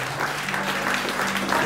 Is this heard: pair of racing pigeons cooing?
no